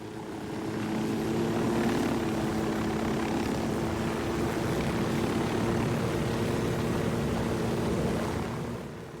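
A helicopter in the video game Ghost Recon whirs with a continuous, loud rotor and engine drone that swells in at the start, holds steady throughout, and fades slightly at the end, with no talking.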